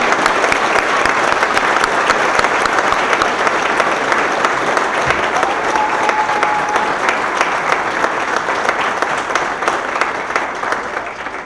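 Sustained loud applause from an audience at a police chief swearing-in ceremony in Rialto, a dense crowd clapping steadily without a break and only slightly fading toward the end.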